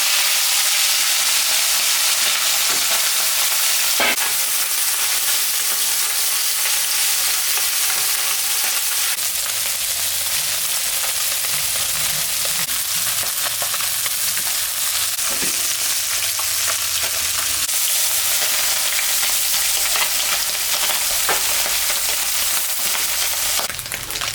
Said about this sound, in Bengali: গরম হয়ে গেছে মাছটা এখন আমি ভাজবো